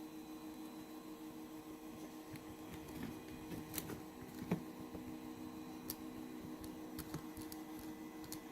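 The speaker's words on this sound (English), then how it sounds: "Printer's being awfully quiet. Looks like it's laying down a solid layer on those chain links." A 3D printer quietly lays down a solid layer on printed chain links, a soft steady motor hum with faint ticks and small clicks, no voices.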